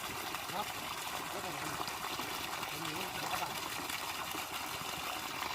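A solar-powered 750-watt groundwater pump drawing water from a borehole, a steady rushing gush of flowing water throughout, close and continuous, with a voice talking over it.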